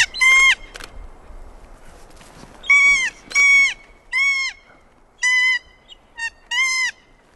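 Loud, honking calls from an endangered wild bird come in separate bursts, mostly paired or single, close to the microphone with only light background noise between them.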